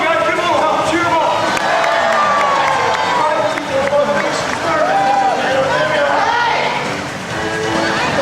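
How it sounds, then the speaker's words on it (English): A lively crowd cheers and shouts continuously for a race at Disney in Florida, loud and close, with a dense babble of voices rising and falling throughout. "Come on, guys, give him a little help. Cheer him on."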